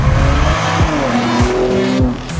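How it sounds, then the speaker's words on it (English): A 2023 BMW M2 corners at half throttle with its rear end sliding out, its engine roaring loud and close while the tires squeal and the revs swing up and down. "I just go around a corner, I go half throttle, and the back end flies out."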